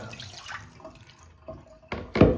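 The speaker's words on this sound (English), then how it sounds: "Every time I turn this on, say the next day, rusty water comes out." Rusty water running from a tub spout faucet, a soft watery wash with drips that swells into a louder, close gush near the end, with no one speaking.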